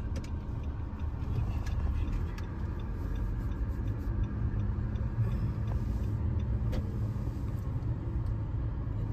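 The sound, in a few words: car driving around outlet mall parking lot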